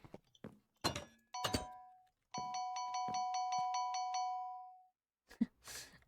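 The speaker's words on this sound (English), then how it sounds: "all I keep hearing every now and then is ding ding ding ding ding ding ding" A bell dings rapidly in Minecraft gameplay, about eight quick bright chimes in a steady run, framed by a few hollow thunks and clicks.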